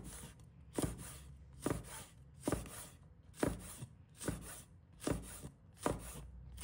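A knife chops green and red chili peppers into rings on a cutting board, with eight evenly spaced, crisp strikes at a steady rhythm, close and clear.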